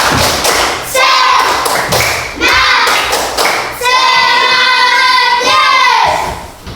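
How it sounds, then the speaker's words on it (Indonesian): Children in a classroom performing a rhythmic spirit clap, loud patterned bursts of claps and thumps in several phrases, with young voices chanting along between the beats. "Tepuk semangat."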